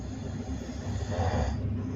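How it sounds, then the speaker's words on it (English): A man asleep on an overnight flight snores in a low, rough, rattling drone with a breathy hiss, near and continuous, with no talk. "Then he started snoring"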